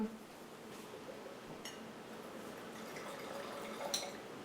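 Wine trickles from a bottle into a glass during a casual home tasting, a soft, quiet pour with faint drips and a light clink of glassware near the end, under low room noise.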